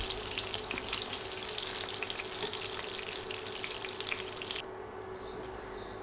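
Fish pieces fry in hot oil for a home-style fish curry, giving a steady close sizzle and crackle throughout, with no speech.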